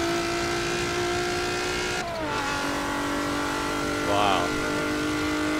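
Engine sound of a Mitsubishi Eclipse racing in the Forza video game, a loud steady high-pitched whine with a shift and a brief dip about midway, as a voice briefly exclaims over it.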